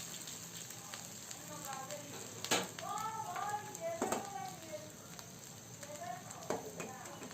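Chopped onions fry in mustard oil in a pan, a steady bright sizzle that stays close and loud throughout, with a voice talking over it now and then.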